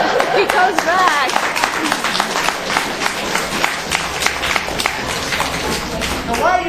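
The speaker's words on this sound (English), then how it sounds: "why are you clapping?" Convention panel audience clapping and cheering in a hall, a dense roar of applause that runs loud and continuous with crowd noise and a voice talking over it near the end.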